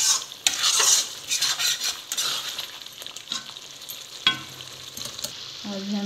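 Chicken curry bubbles and sizzles in a pan over a medium flame, with loud, close stirring and scraping and occasional metal utensil clinks against the pot.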